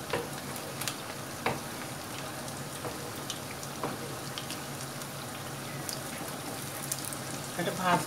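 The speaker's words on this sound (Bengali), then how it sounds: "এটা ভাজবো" Garlic cloves fry in mustard oil, giving a steady crackling sizzle like light rain, with a few louder pops and scrapes scattered through.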